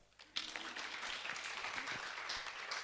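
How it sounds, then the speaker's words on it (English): Audience applause after a reading at the Chandigarh Literature Festival, a steady wash of many hands clapping that starts abruptly and carries on evenly, moderately distant in a hall. "you can clap for that"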